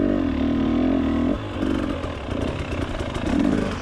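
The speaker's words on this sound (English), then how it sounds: "It's a 2022 XC300 two-stroke" A 2022 XC300 two-stroke dirt bike engine on a trail ride, revving and burbling with a sharp drop in pitch partway through, loud and close with no talking.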